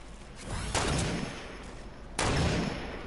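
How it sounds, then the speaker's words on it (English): Gunfire in the Fortnite battle royale video game: two loud, sharp shots about a second and a half apart, each with a short decaying tail over a steady game background. "I'm shooting."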